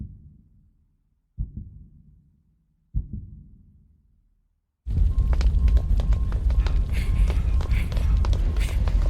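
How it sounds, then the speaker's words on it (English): A heartbeat heard from inside a machine in an animated series: two or three slow, soft thumps in near silence, then a sudden loud rumbling roar takes over. "I can hear Sho's heart beating."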